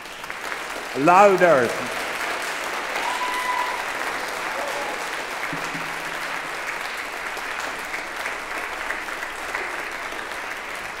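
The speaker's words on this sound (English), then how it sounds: "And now give them a round of applause." An audience applauds steadily through a graduation-style ceremony, a sustained broad wash of clapping that carries on for many seconds at moderate distance, with a brief burst of someone shouting or cheering near the start and faint speech underneath.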